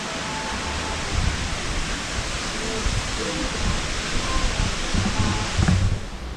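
Broadband, steady rushing water from a waterfall near Quimixto, south of Puerto Vallarta, on Mexico's Pacific coast, close and continuous with a few faint low thumps underneath.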